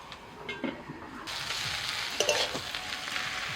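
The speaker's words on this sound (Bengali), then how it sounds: "দেখুন পাট শাকটা কতটা ঝরঝরে ভাজা হয়েছে" Jute leaves fry in a pan with salt, a soft crackle that swells into a steady, close sizzle after a moment, with a few light stirring scrapes.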